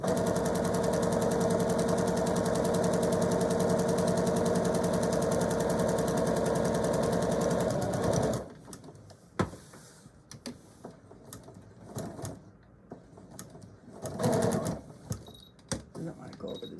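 A sewing machine runs steadily for about eight seconds while stitching a zipper onto a fabric handbag organizer, then stops abruptly, leaving soft handling clicks and fabric rustles.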